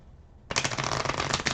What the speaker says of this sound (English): So let's give it a nice little shuffle